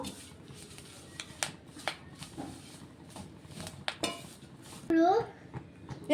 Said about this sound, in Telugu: ఇలా ఇంకా కొంచెం ఫ్రై చేయాలండి ఇదిగోండి ఫ్రై అవుతుంది కొంచెం